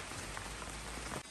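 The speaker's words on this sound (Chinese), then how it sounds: "这个天说下雨就下雨了" Steady rain pours down outdoors in the countryside, a dense even hiss of drops hitting surfaces, close and unbroken.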